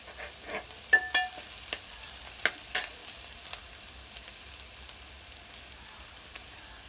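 Onions fry in a pan until reddish-brown for a baby shark (mushi) curry, giving a quiet continuous sizzle with occasional sharp spatula clicks and scrapes close by.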